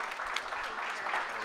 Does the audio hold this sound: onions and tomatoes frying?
no